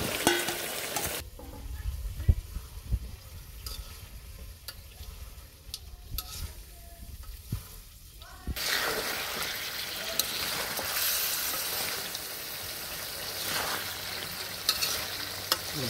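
Duck meat with new potatoes stir-fried in a village kitchen, with close scraping and clinking stirs at first, then a loud, steady sizzle of frying that continues under occasional utensil knocks.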